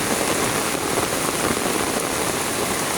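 Heavy rain pours steadily, a dense continuous hiss of drops drumming on surfaces, loud and close with no pauses or voices.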